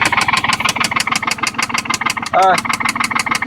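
A motor with low coolant idles close by in a fast, even chugging rhythm of loud repeated beats, with a brief extra tonal whine midway and no talking.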